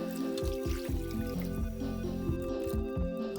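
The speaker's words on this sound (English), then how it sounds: "let's add 2 cups of water to this here leftover seasonings" Two cups of water are poured into a pot of leftover instant ramen pork tonkotsu seasonings, giving a soft, rhythmic series of gurgling splashes and drips, close and fairly quiet, with no talking.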